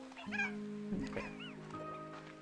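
Cats in the video game Slime Rancher 2 let out a couple of distinct meows, one after another, close up above a soft, steady game ambience.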